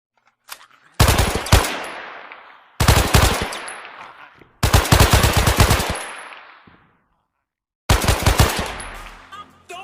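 Rapid machine-gun bursts from a mobile first-person shooter game come in four loud volleys, each sharp crackling string of shots trailing off with a short echoing decay between pauses.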